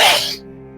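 A single sharp sneeze burst close by, loud at the start and cutting off quickly into quiet background tones.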